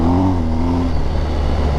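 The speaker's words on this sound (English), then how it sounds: "See how the engine's revving up more?" An ADV motorcycle engine in Enduro Pro mode revs up close and loud on street tires, then holds a steady droning roar.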